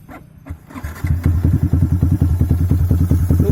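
A Yamaha MX King 200cc motorcycle fitted with a WRX RS200 header exhaust starts up and settles into a loud, close, rapid thumping idle, with no blipping of the throttle, in a village setting.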